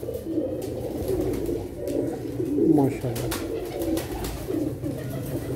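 Teddy pigeons cooing softly in a loft, several low throaty coos close by, with someone talking over them.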